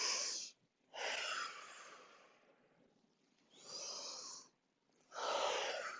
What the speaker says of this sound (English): And now I'm slowing down both the inhale and the exhale.